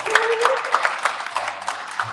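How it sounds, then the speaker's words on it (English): Indoor audience at a financial summit clapping for a speaker, a brief moderate burst of scattered applause with a faint voice under it. "please give her a round of applause"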